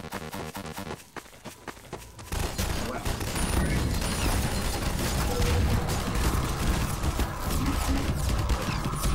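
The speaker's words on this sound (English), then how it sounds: "They're shooting at me." A rapid barrage of gunfire in the Jazztronauts game, starting faintly and then becoming dense and loud, with continuous cracks and impacts lasting several seconds while a voice talks over it.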